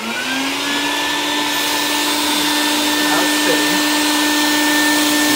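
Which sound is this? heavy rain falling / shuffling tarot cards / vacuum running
vacuum running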